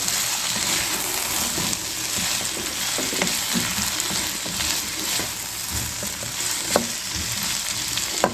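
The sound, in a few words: onions, cabbage, capsicum and chillies being stir-fried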